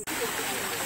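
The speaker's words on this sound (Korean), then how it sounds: "이런 계곡도 물소리가 그 리조트에서 다 들려요." Steady rushing water from a valley stream in Hwadam Forest, Gonjiam, flows continuously, a broad even wash of sound close by.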